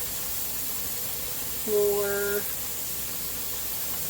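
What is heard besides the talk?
pressure canner hissing while venting steam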